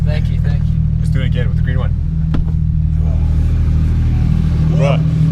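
A straight-piped Porsche GT3 RS idles with a loud, steady low engine drone while people talk over it, with one sharp crack in the middle of the stretch.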